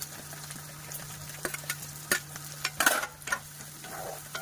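Curry leaves and green chilli fry in a pan for a chicken dish, a soft low sizzle broken by several sharp scraping stirs and clatters, no voices.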